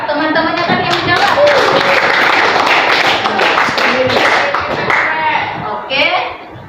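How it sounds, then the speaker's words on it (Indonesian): Classroom students clap together in a loud burst of rhythmic hand claps, layered under lively voices and a teacher talking over them, fading out near the end. "tepuk tangan dulu buat teman-temannya tadi yang menjawab"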